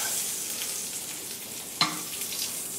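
Zucchini flowers frying in hot oil, a soft, even, close sizzle that holds steady throughout, with one sharp clink partway through as they are turned over.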